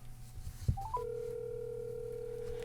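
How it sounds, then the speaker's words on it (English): A smartphone and a paired Samsung Galaxy Tab S11 Ultra ring together for an incoming call: a few short rising tones, then one steady electronic ringing tone that holds on alone, clear and close. "my phone is ringing and the tablet is ringing"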